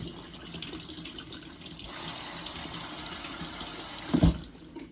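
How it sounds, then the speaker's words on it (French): Tap water running steadily over the black plastic part of a Neakasa PowerScrub II as it is rinsed, a soft close hiss of flowing water with a brief louder splash near the end. "On la passe sous l'eau."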